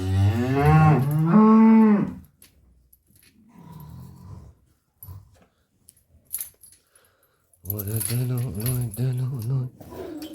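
A cow moos loudly twice up close, then a person talks briefly in Turkish over quiet background, followed by another long, drawn-out moo.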